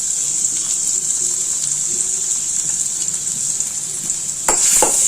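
Fennel seeds and ginger garlic paste frying in hot oil in a pan, giving a steady bright hiss throughout, with a louder burst of sizzling and clatter near the end.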